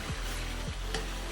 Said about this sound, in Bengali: আমাদের চিকেন ভাজা শেষ